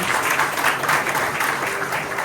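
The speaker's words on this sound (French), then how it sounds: "Je vais l'applaudir, je pense." Steady, dense audience applause at an inaugural corporate keynote evening for Groupe Alcôve, many hands clapping at once and holding an even level throughout without voices on top.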